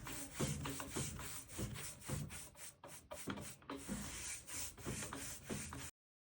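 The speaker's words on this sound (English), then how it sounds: "So you're just going to be buffing back and forth" A chalk-painted oak blanket box is buffed by hand with rhythmic back-and-forth rubbing strokes, close and steady, a soft brushing scrape repeating for several seconds before stopping.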